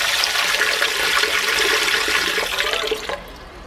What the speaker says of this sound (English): fill the sink with a little bit of water